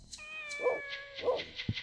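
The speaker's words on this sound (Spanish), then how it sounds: "It must be that kitten." A kitten in the Dreamcast game Shenmue gives two clear, drawn-out meows close by, followed by a soft thump, with a faint steady tone underneath.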